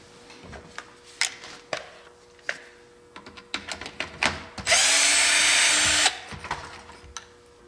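A power drill unscrews the suspension shocks on an Axial Wraith RC rock crawler, one sharp whirring burst after a run of clicks, taps and tool handling close up.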